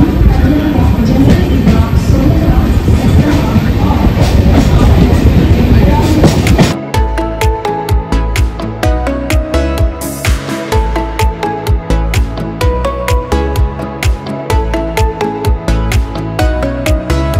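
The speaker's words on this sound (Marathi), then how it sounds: "जनशताब्दी एक्सप्रेसचा अरायवल झाला आहे पनवेल रेल्वे स्टेशनवर." The Jan Shatabdi Express 12051 pulls into Panvel railway station with a loud, dense rumble of wheels on rails, then the noise drops away and a steadier, layered background takes over.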